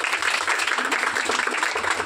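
An audience at a coaching centre event gives a short burst of steady, dense clapping throughout, fairly close and lively.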